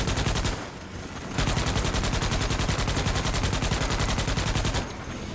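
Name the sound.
turret firing in a video game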